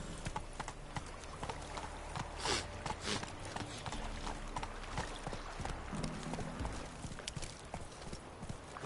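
Roach the horse from The Witcher 3 trots along with a steady clip-clop of hooves, close and fairly quiet, over a soft outdoor game ambience.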